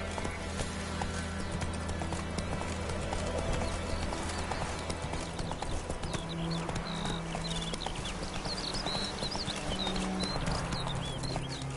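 In The Witcher 3, the horse Roach gallops with a fast, continuous clip-clop of hooves, loud and close over a game soundtrack with birdsong.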